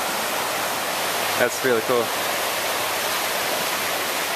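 A white water river rushes in a park with a loud, steady broadband roar, while someone briefly speaks over it.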